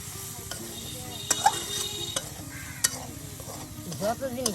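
Leafy greens fry in oil in a village kitchen, a soft steady sizzle under scattered clinks and scrapes of a spatula stirring the pan.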